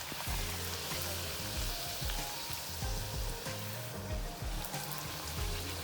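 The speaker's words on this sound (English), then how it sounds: "that's why I am frying like this." Steady sizzling of dough frying in hot oil, with bubbling crackle and occasional louder pops, close and continuous throughout.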